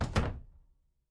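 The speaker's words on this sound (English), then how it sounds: "my other self ushered me out the door and slammed it behind me" A door slammed shut indoors, one loud close thud with a short rattle that fades quickly into silence, heard alone without talk.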